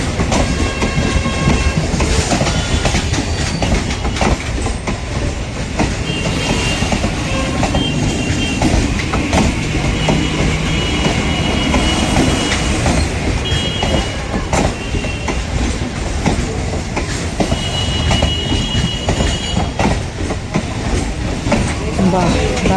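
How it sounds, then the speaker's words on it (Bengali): The Tebhaga Express with brand-new LHB coaches runs through Sealdah station, a loud continuous rumble with rhythmic wheel clatter and squeal close by, under people talking. "ওই পাশ দিয়ে নতুন রেক বেরিয়ে যাচ্ছে আর এই পাশ দিয়ে আস্তে আস্তে যাচ্ছে।"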